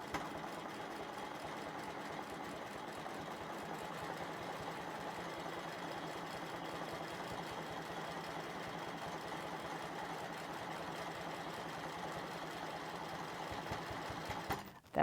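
Sewing machine running steadily while stitching straight lines across a quilt block, a continuous mechanical whir with a fine rapid rhythm, close and even throughout, stopping abruptly at the very end.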